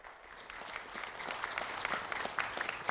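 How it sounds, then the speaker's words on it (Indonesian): An audience at a regency election candidates' debate gives steady, dense applause for a candidate pair. The clapping is moderately distant and sustained without a break, and no voices stand out. "Tepuk tangan yang meriah."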